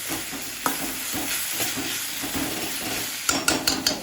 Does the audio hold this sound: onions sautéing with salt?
yes